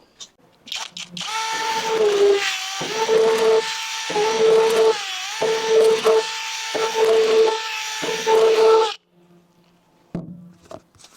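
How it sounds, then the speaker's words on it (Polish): A power drill whirs loudly in repeated bursts, spinning up and stopping about six times with short gaps, grinding against protective paint film on a car panel. "Kolejna rzecz, wiertareczka."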